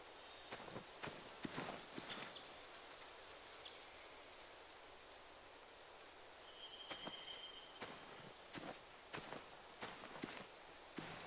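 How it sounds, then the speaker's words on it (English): Horses walk with steady clip-clop hoofbeats in The Walking Dead Final Season video game, paired with soft footsteps over a quiet, rain-like background hiss, fairly faint and with no talking. "They have horses."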